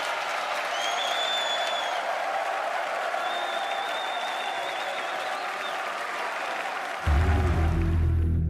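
Crowd applause rolls steadily through the audience at the Red Bull Wololo Londinium finals, an Age of Empires esports event, sustained and broad throughout with a louder, heavier burst near the end.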